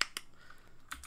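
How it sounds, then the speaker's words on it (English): Computer keyboard being typed on while entering JavaScript code, a few quiet, close key clicks in a brief burst. "So what we do is we type"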